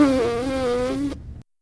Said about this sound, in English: Vibrate your lips with a full airstream directed through the center of the small opening.